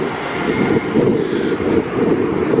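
A large wagon or lorry passes close by on a street corner between Bloom Street and Slater Street, a steady loud low rumble of engine and tyres lasting throughout, with some wind buffeting.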